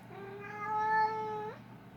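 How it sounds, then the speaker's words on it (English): A single drawn-out cat meow, clear and fairly close, rising slightly before cutting off, against quiet background hum. "I hear a cat."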